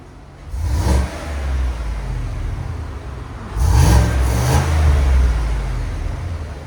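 A 2019 Cadillac Escalade 6.2L V8 on its stock exhaust revs twice, each blip rising to a deep, fairly loud roar before settling back to a steady rumbling idle, heard up close without voices.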